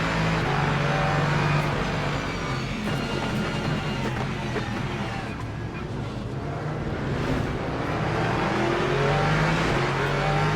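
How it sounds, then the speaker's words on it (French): A McLaren race car in the racing game Le Mans Ultimate roars past fast, its loud engine drone rising and falling under continuous wind and road rumble, with other engine tones blending in throughout. "McLaren qui allait fort, là."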